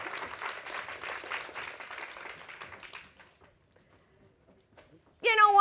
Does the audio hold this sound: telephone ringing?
no